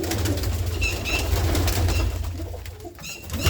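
Pigeons crowd a loft holding about 450 birds, cooing low and steadily close by, with bursts of wing flapping and the shuffling of many birds.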